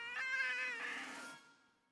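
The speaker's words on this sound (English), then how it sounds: "I forgot all about the cat and all my excitement and ended up stepping on her tail." A cat in the horror game Tiny Bunny gives one drawn-out, wailing meow after its tail is stepped on. The cry rises sharply, then fades away, close and clear with no speech over it.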